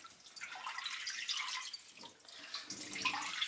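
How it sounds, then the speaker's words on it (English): Water from rinsed kale drips and trickles into a bowl, a soft, close, uneven patter of small splashes that keeps going for a few seconds, with no voices. "I'm attempting to make sure that as much of the water ends up back in the bowl"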